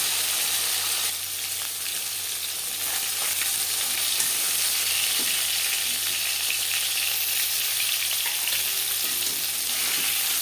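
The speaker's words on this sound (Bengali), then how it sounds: "মাছ ভাজা হয়ে গেছে" Silver carp pieces fry in a pan of a little oil, giving a continuous close sizzle with faint crackles and pops and no talking.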